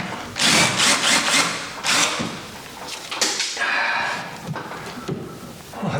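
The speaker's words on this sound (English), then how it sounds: "I've got this old school trusty right angle drill with an auger bit on it, and it does just the trick" An old right-angle drill with an auger bit bores through wooden framing while ceiling lights are being installed, giving bursts of grinding, chattering cuts with short pauses between them at close range.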